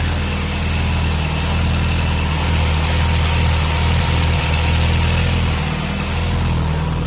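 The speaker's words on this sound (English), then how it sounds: "It's just sitting there idling at 1000 RPM like it was factory OEM." Toyota Celica ST205 GT4 engine idling steadily at about 1000 RPM, loud and close, with an even rumbling drone and faint turbo whir, no ticking, continuous throughout without talk.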